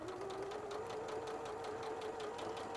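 A sewing machine stitches quilt fabric a quarter inch from the line, running as a steady, even, mid-pitched whir throughout.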